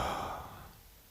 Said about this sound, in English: Take a deep breath in and slowly exhale.